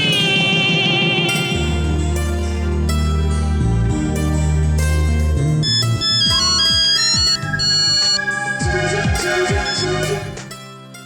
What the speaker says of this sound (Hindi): हाँ भवानी, तुम्हारा फोन।